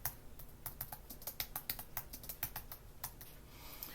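Fingers type on a computer keyboard, a quick, uneven patter of soft key clicks close by, quiet and without talking.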